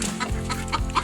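Backyard pet chickens clucking close by, a short burst of several loud, throaty clucks in quick succession.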